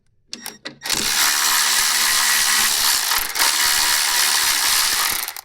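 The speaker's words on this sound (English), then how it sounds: "first you want to undo this bolt right here to get some more room" A ratchet clicks rapidly and steadily for several seconds while undoing a bolt near the service plug of a Nissan Leaf battery, after a few brief metallic clinks.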